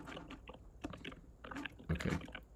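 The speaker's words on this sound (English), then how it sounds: "okay, my Magic Keyboard is connected." Fairly quiet typing on an Apple Magic Keyboard paired with an iPad, with soft, close key taps in short irregular bursts and no talk.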